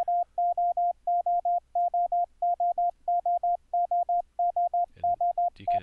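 Morse code tone keyed with iCW internet software, a steady pure beep sent in rapid groups of three short pulses with brief gaps, fairly loud and clean, with a little noise at the end.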